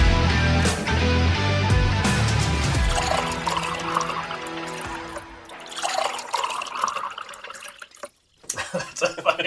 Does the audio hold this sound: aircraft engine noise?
no